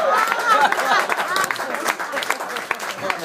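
A baseball crowd claps and cheers loudly after an anti-Turkish chant, dense applause mixed with shouts and chatter throughout.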